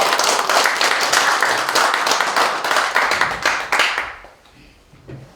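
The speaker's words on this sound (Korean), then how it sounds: "자 박수로 환영하도록 하겠습니다" An audience at a church seminar for pastors' wives claps to welcome the speaker: brisk, dense applause for about four seconds, then it stops abruptly, leaving a quiet room with a faint stray sound.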